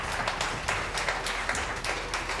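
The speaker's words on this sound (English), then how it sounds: "can we clap hands for David for this wonderful gift" An audience claps for David after he presents a gift at a Morocco 2025 Africa Cup of Nations event, giving steady, dense applause that runs through the whole stretch at moderate volume, with no voices over it.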